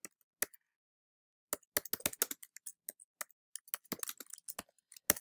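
Keys clatter on a computer keyboard as an alt tag is typed, a quiet close burst of irregular clicks after a few isolated taps, with no talking.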